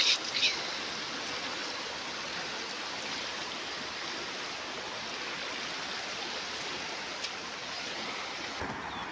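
A steady, broad rush of water from a small stream in flood after heavy monsoon rain, constant and fairly distant, with no voices over it.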